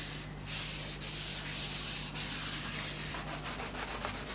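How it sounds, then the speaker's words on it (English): Sander working a wooden table top for a mid-century modern guitar pick table, a loud close abrasive whir with a constant motor hum and rhythmic rasping passes. "And then it gets sanded down just to knock off the high spots and make it as level as possible"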